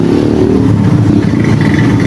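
A loud Bajaj Rouser 135 motorcycle engine with an overheated, damaged piston idling with a rough, knocking clatter running steadily throughout.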